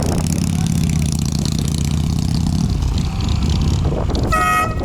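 A motorcycle engine idles and revs close by with a steady low rumble throughout, ending with a short horn-like toot near the end.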